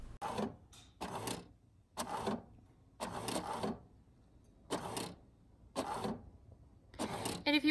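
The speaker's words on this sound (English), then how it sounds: "So you'll select send to printer. It will print out the image for you" HP DeskJet Plus inkjet printer printing an image, rhythmic bursts of whirring print-head passes repeating roughly every second, close and moderately loud with short quiet gaps between strokes.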